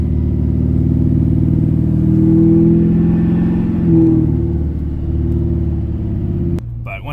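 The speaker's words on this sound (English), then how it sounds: "Here we go up a steep hill right here." A heavily loaded LBZ Duramax diesel pickup truck engine labours up a steep hill, a loud, steady low rumble with a rising strain in the middle before a brief shift near the end.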